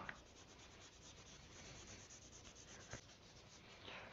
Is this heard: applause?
no